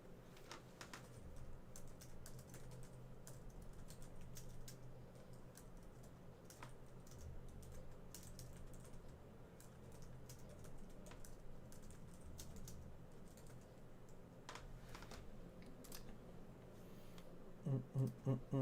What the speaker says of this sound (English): Slow typing, spacebar's taking off a little knob.